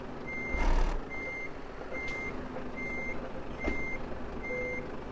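Truck reversing alarm in Euro Truck Simulator 2 while a trailer is backed in, a steady series of about six evenly spaced beeps over a low engine rumble, with no talking.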